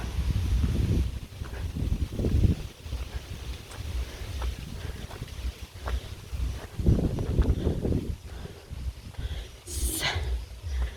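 Gusty wind buffets the microphone in rough, uneven surges, with low rumbling noise throughout and no clear voices.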